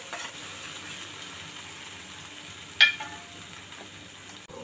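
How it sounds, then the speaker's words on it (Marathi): Steady low sizzle of tomato masala frying in oil, with one brief sharper scrape or clatter midway as spices go into the pan, close and even throughout. "आता मी यात सगळे मसाले घालून घेते."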